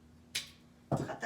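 Scissors snip the end of a ribbon during a fabric-covered Dollar Tree plate craft: two short, crisp close cuts separated by a brief pause.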